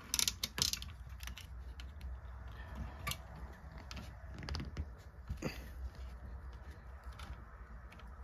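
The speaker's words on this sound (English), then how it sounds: "So we'll take that screw out like so" A screw is worked out of a Juwel Model 3 typewriter, with faint close clicks, ratcheting ticks and small metallic creaks from the mechanism over a quiet background.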